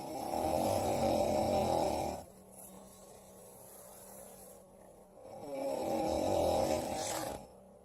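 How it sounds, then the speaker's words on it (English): A sleeping man snores in two long, loud, rasping inhalations separated by a quieter pause, each breath lasting about two seconds, close and alone without talk. "I know he's still snoring"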